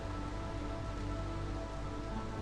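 Steady rain from a drizzle geyser in a video game, a dense even patter that holds at one level throughout with no voices over it.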